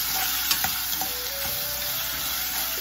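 Onion, urad dal, garlic and chilli sautéing in a pan, a soft steady sizzle with a few light spatula taps, fairly quiet and without talk.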